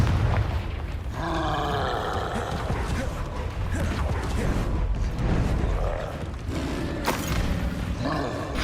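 A fiery Confringo spell blasts in the Hogwarts Legacy video game, heard as loud booms and crashes amid roaring, clattering game action, dense and continuous, with bursts about every second or two and a sharp hit near the end.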